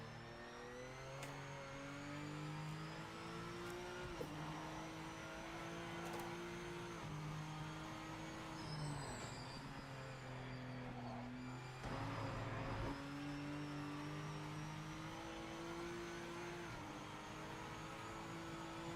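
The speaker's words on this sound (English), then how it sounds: "I hear this engine sound," A race car engine in the sim racing game Project Motor Racing drones steadily, with pitch climbing and dropping through repeated gear changes, heard alone at moderate level.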